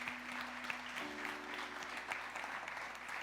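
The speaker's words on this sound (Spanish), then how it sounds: "Demos un aplauso al Señor." A church congregation breaks into sustained, steady applause that fills the room, with a faint tonal hum underneath and no talking over it.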